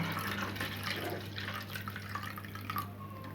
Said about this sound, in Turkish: Son kasenin suyunu da dolduruyorum.